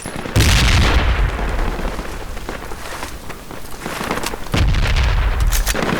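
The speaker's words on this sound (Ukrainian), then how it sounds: "Відкидуємося гранатами, божечки" Grenade explosions in the shooter game Squad, two heavy booming blasts a few seconds apart, close and loud, with crackling gunfire and rumbling debris filling the gaps between them.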